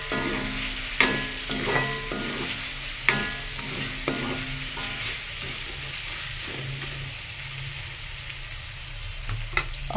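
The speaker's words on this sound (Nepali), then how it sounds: "अब एकछिन यसलाई मजाले फ्राई गर्ने।" Ginger garlic paste fries in a pan with a soft, steady sizzle, punctuated by a few sharp clinks and scrapes of stirring, heard close up with no one talking.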